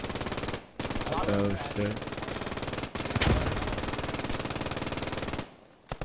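Machine gun fire in a video game bunker battle comes in rapid bursts with short gaps and a sharp blast partway through. A man swears briefly over the gunfire.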